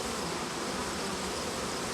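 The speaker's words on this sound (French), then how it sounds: "On appelle ça un essaim d'abeilles." A swarm of bees buzzing steadily and densely, a constant close drone from many insects at once with no talk over it.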